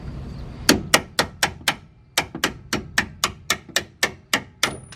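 A screwdriver is struck repeatedly with a hammer to drive out the bolts of a car's strut assembly: about fourteen sharp metallic blows in a steady rhythm, close and fairly loud, with a short pause partway through.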